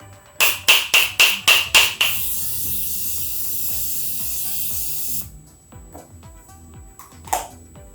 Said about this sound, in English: I'm just going to quickly set my face with the Morphe Continuous Setting Mist.